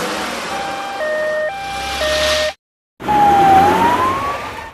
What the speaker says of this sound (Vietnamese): Xe cứu thương.